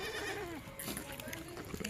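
Kathiawadi goats bleat amid a busy farmyard with buffaloes nearby, a person's voice and other animal noise mixed through the short, fairly steady clip.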